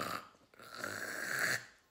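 A man snores in bed at night, drawing in two raspy, rumbling breaths, the second longer and louder before it cuts off. The sound is quiet and close, with no speech.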